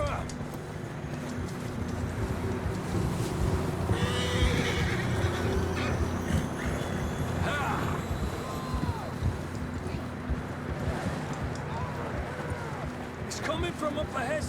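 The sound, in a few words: horse neighing and hooves in Red Dead Redemption 2 video game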